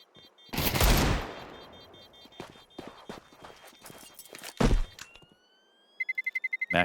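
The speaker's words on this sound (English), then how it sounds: "MAC-10 versus a Deagle." Gunfire duel in Counter-Strike during a professional esports match, MAC-10 against a Desert Eagle: a loud burst of rapid shots, then scattered sharper reports and footstep-like clatter, ending with a quick rhythmic volley.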